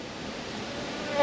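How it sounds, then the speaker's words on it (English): Honeybees on an outside hive frame buzz in a steady, close hum that swells slightly louder at the end. "We've got bees on the outside frame."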